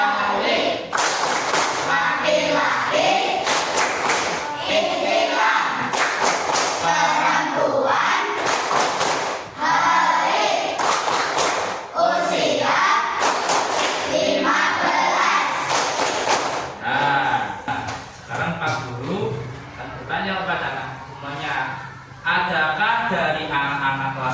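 A class performs the 'tepuk tanda baligh' clapping routine in loud, rhythmic bursts of group claps mixed with children's chanting and shouting. The routine runs in repeated phrases with brief pauses and sounds close and energetic.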